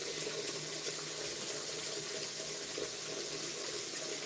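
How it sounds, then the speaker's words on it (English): Tap water runs steadily into a kitchen sink while something is rinsed under it, a close, even hiss with no talking. "let me wash this real quick"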